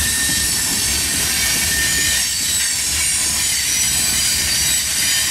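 A CSX grain train rolls past on Main Street in Hamlet as it heads off the SH Line into the yard. The loud, steady roar of its wagons fills the clip, with high wheel squeal above the rumble.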